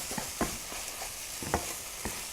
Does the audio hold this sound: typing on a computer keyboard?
no